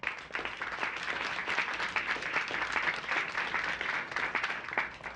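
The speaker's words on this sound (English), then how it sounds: "Those who believe no, please applaud." Town hall audience applauding to vote on a question, a steady wash of many hands clapping at moderate distance, fairly even throughout without pause.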